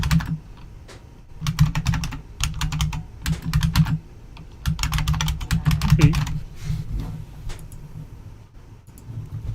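Rapid computer keyboard typing clatters close to the microphone in bursts of sharp clicks, with short pauses between runs and a low steady hum underneath.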